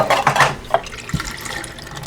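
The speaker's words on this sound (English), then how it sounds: "I'm going to drain the peas." Liquid from a can of peas pours and splashes into a kitchen sink, a short gush of running water with a few sloshes and drips, close by and moderately loud.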